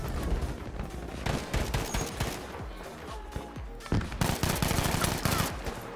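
Rapid bursts of gunfire in the video game Battlefield V crackle almost nonstop, loud and sharp, with overlapping shots and volleys.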